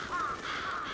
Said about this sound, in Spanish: te voy a creer que son cuervos